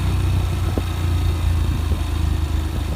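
A fuel-injected 2023 Yamaha FZ-S V3 motorcycle engine runs at a steady idle, a close, continuous low rumble with slight pulsing and no talking.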